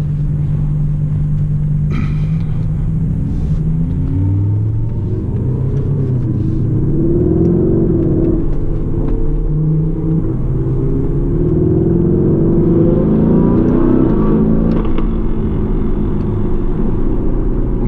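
A Lamborghini Urus SUV engine pulling and accelerating, a loud, steady low rumble with rising and falling engine tones that swell throughout, close and continuous with no talk.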